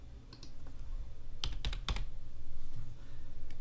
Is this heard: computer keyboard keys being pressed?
yes